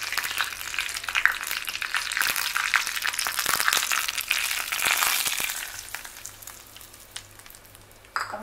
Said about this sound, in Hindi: ये तड़का हम हमारे चटनी में डालेंगे।